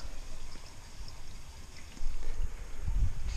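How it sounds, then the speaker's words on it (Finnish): Water gurgles and trickles into a 130-litre tank, with an uneven bubbling flow and low burbling swells. The filling grows louder and fuller toward the end. "Kylläpä se pitää kummaa lorinaa."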